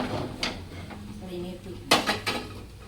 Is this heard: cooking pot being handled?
yes